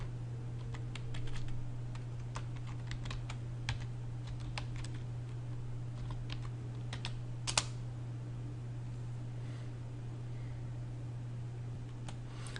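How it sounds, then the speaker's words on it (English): Typing on a computer keyboard while entering a network configuration command, a quiet, irregular run of close key clicks over a steady low hum, with one louder tap late on. "you can just type in the first 3 letters"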